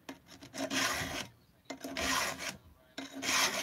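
Hand file rasping along a chainsaw chain to sharpen it, three long gritty strokes with short pauses between, close and steady.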